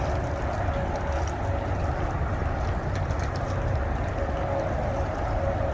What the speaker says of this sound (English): This is rain. It's been raining all morning